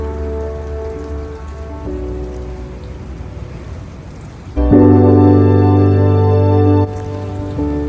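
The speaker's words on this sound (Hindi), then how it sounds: "आप बारिश चेक करें, आवाज़ आ रही है" Steady rain pattering on a surface, with a louder, denser burst midway before easing back to a constant hiss.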